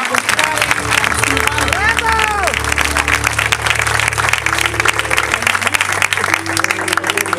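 A crowd at a retro music night in the Roman Odeon of Kos bursts into steady, enthusiastic applause that lasts throughout, with voices and some tonal sounds mixed in beneath the clapping.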